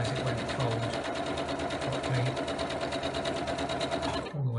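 A sewing machine runs steadily while stitching a fabric mask, a fast continuous mechanical whir with a rhythmic stitch pulse and faint low tones, stopping abruptly near the end.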